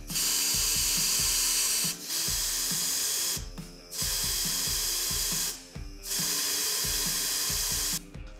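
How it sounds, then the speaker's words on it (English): Compressed air blasts through an engine block on a 260 ci Chevy LS, flinging a piece of paper upward: loud hissing bursts of about two seconds each, repeated four times with short pauses between. "I'm gonna turn the air on, and you'll be able to see the air shooting this piece of paper up"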